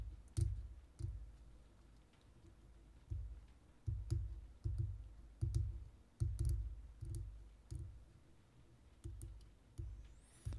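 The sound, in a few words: cutting model car parts with Tamiya cutters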